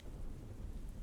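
Rain and thunder as a sound effect, a dense steady wash of rainfall with a low rumbling undertone, brief and continuous with no voices.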